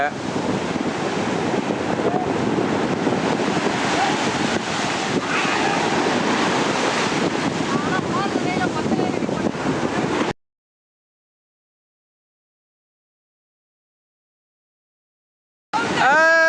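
Sea waves wash onto a beach in a steady, loud roar mixed with wind buffeting the microphone, running continuously for about ten seconds before cutting to silence, then a brief burst returns at the end.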